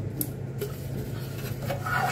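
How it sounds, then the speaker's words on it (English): A silicone brush spreads oil across a baking pan, making soft, steady rubbing and light scraping against the metal with a few faint clinks, close by and without any talk. "So, ibabrush lang po natin ang ating pan."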